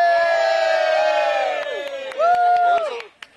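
An audience at a juggling show cheers and shouts together in a loud sustained roar of many voices, which dips briefly before a second burst of whooping and fades at the end.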